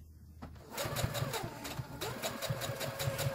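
A sewing machine stitches a seam on a cotton face mask, its rapid mechanical clatter starting after a short pause and running steadily at close range with a rhythmic motor hum.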